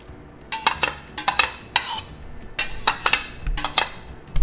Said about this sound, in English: Okay, so I'm going to put this in the non-stick pan.